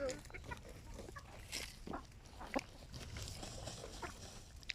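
Chickens, including Indian game fowl, cluck softly in a busy farmyard, their short calls scattered over a steady low rumble of background noise.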